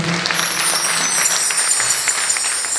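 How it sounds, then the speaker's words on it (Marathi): At a Marathi folk music gaulan performance, a large audience claps loudly and steadily, a dense continuous wash of applause with no talk over it. "जोरदार टाळ्या होत्या चंद्रवीरसाठी"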